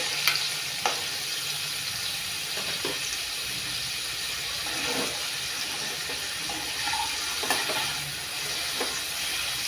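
Paneer and cashew pieces frying in a pan, a quiet continuous sizzle broken by a few sharp clicks and stirring knocks, no talk.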